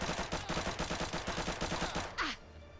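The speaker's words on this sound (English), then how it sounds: "Hear this thing unsuppressed." PPSh-41 submachine gun firing unsuppressed in Fallout 4, a rapid, rhythmic burst of about twenty loud shots that stops abruptly, followed by a short mechanical clack.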